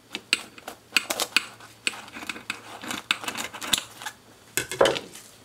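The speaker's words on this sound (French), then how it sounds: "Donc là je prends les ciseaux." Kitchen scissors snipping through a homemade pizza topped with peppers, a rapid series of short crisp cuts and clatters, fairly close, with no talking.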